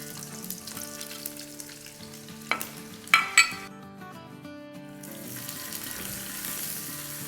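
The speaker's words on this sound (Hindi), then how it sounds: "इसको ज़रा सॉटे करेंगे" Cashews, chopped onion and green chili pieces sizzle steadily in a hot pan, with a few sharp clinks of a spoon against the pan partway through and a softer, lighter frying hiss afterward.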